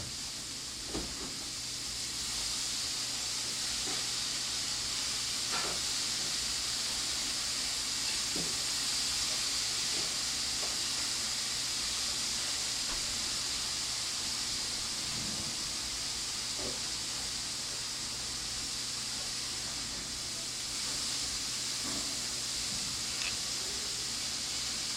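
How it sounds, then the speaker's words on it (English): Cauliflower frying in a pan gives a steady, soft hiss of sizzling that runs the whole time. Faint clicks and light knocks from the pan or utensils come through now and then, and no one speaks. "We just need to fry this cauliflower about 2 more minutes"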